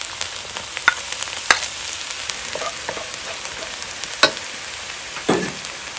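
Steady sizzling of garlic frying in hot oil for fried rice, a crackling hiss with occasional sharper pops and a clink of a utensil, no talking.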